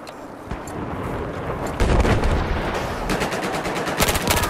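Battlefield 4 gunfire crackles loud and close in rapid automatic bursts, running almost continuously with sharp peaks and no voices over it.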